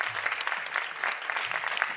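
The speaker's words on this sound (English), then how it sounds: "Final round of applause for these wonderful, wonderful people." A final round of applause at a felicitation ceremony honouring male gurus, brisk continuous clapping from an audience at moderate distance, with no voices over it.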